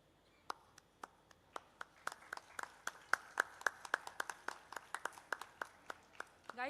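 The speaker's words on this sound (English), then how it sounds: "Please, can we have a round of applause for him?" Sparse, individual hand claps ring out at a school-level quiz competition for the winner, a few people clapping at an uneven, steady pace that swells slightly before fading, with no talking over it.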